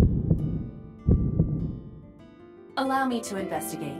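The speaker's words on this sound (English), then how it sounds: "What the fuck was the heartbeat for?" In the video game AI: The Somnium Files, a heartbeat effect pulses as slow, deep, muffled double thumps that repeat twice, then fade before a character speaks.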